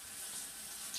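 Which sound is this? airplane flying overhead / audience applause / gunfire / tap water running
tap water running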